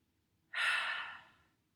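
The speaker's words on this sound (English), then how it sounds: "Take a few deep breaths." One deep breath during a guided meditation: a single long, airy exhale that swells quickly and then fades over about a second, close and soft, with no other sound.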